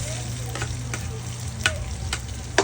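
Tomato paste fries in a pan before garlic and onion go in, a continuous sizzle with a low hum beneath and occasional scraping stirs and light utensil knocks.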